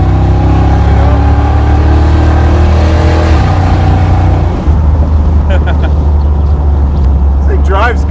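The V8-swapped Jeep Wrangler drones loud and close, a deep, steady engine note whose pitch shifts as the revs change, with people talking over it.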